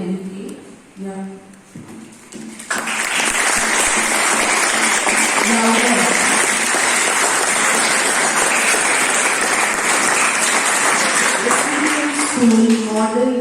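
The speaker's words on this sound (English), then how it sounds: "say a good round of applause to all the delegates" A Model United Nations audience bursts into a long, loud round of applause for the delegates, steady and full after a brief stretch of talk, continuing to the end with voices emerging beneath it.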